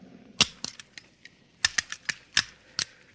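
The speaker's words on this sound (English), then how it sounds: "Now, let's see you put back the firing pin." A firing pin being fitted back into a pistol: a quick series of sharp metallic clicks and snaps, close and fairly crisp, spaced irregularly over a quiet background.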